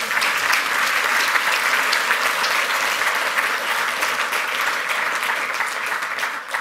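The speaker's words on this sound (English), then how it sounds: "Give this guy a round of applause." Loud, continuous audience applause in a conference hall, a thick wall of clapping that carries on evenly from start to finish.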